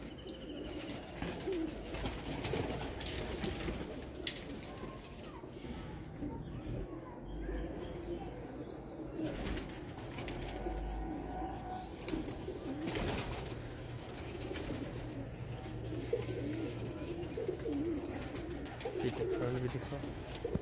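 Teddy golden pigeons coo softly and continuously among other bird calls, with occasional wing flaps and people talking nearby throughout.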